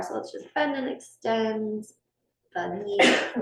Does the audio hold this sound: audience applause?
no